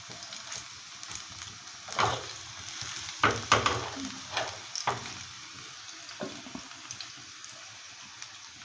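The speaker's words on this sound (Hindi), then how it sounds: "तो ये तड़का मैंने लगाना शुरू कर दिया" Tempering spices crackle and sizzle in hot ghee, with a few sharp bursts of spattering over a steady frying hiss.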